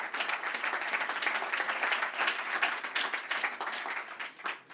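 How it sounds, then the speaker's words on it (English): Audience applause at a conference talk on web security, a dense steady wash of clapping that holds for the whole stretch before thinning out at the end. "Wow, an applause just for showing up."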